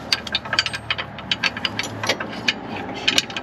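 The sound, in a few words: ratchet wrench turning a bolt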